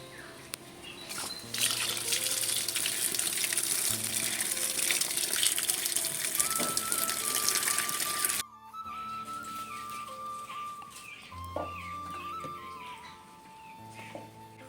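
Pointed gourds rinsed under running water, a steady gushing and trickling stream close by that pauses briefly midway and then resumes, with no talking.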